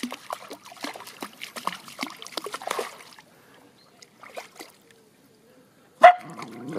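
A Finnish Spitz splashes and paddles through water during a spring bath, with irregular sloshing and dribbling over the first few seconds, then quieter trickles and a sudden bark-like yelp near the end.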